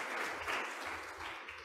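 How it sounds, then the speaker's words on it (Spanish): Congregation at a Second Sunday of Easter church service applauding, a soft, even patter of many hands for under two seconds, heard from a distance. "Aplauso para ustedes."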